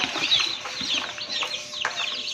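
A Rhode Island Red chicken clucks softly and repeatedly nearby, with small rustles and scratchy movement around it.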